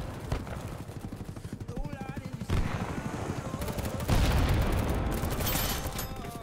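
Rapid gunfire in a BattleBit Remastered firefight, bursts of automatic shots and booms that grow louder and denser toward the end, with voices talking over parts of it.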